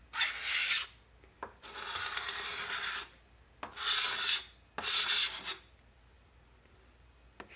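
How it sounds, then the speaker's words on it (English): A card scraper works across a wooden top in four distinct rasping strokes, close and fairly clear, separated by short pauses. "I'm using card scraper"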